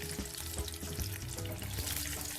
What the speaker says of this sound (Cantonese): 炸到呢個獅子頭金黃咧，